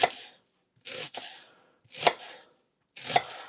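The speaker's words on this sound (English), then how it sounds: "because in this instance I'm slicing through everything" A knife chops through vegetables on a board for a hunters' and foragers' autumn stew, four separate firm cuts spaced about a second apart, close and clear with no talk.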